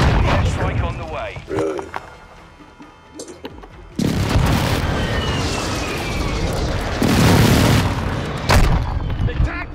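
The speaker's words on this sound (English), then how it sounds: "Air strike on the way." Air strike explosions in the shooter game Call of Duty: Modern Warfare II, a loud sustained roar of heavy blasts and booms erupting after a few seconds of gunfire and game voices, rumbling on to the end.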